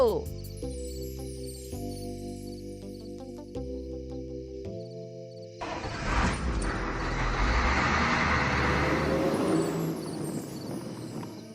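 In a cartoon, a simple musical jingle gives way to a sudden loud whooshing, rumbling vehicle effect as a train-like vehicle starts up and drives off, swelling and staying loud to the end.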